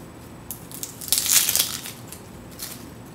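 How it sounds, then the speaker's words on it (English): Papery outer skin is peeled off an onion by hand, giving dry crinkling and rustling up close, with the loudest crackle in the middle of a short, quiet stretch. "So next I'm going to peel the onion."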